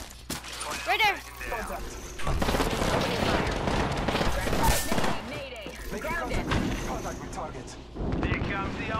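Apex Legends gunfire during a Fuse match: bursts of rapid shots and booming impacts pile into a dense, loud barrage near the player, with in-game voice lines and a person talking over the fight.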